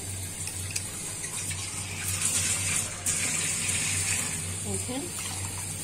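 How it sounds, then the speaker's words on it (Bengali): Water is poured into a pan of broccoli being cooked, a steady splashing gush under a low kitchen hum that swells briefly midway. "আর আমি আর একটু পানি দিয়ে দিচ্ছি।"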